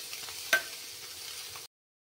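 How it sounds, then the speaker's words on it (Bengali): Paneer fries lightly in hot oil, a soft, low sizzle with faint stirring and one brief clatter near the start, quiet and close, ending abruptly. "তেলে আমি পনিরটাও একটু হালকা ভেজে নিচ্ছি।"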